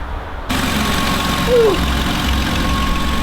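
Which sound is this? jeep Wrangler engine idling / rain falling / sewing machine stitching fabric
jeep Wrangler engine idling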